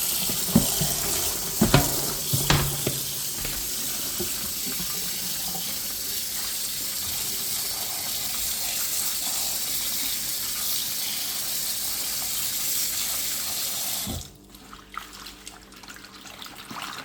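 Vegetables for a stew washed under a running kitchen tap, a steady close gush of water with splashes and clunks early on, the flow stopping near the end and leaving quieter dripping and handling.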